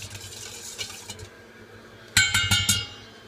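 A utensil stirring food in a pot, with faint scraping at first, then a quick series of four or five loud metallic clinks close by, no talking.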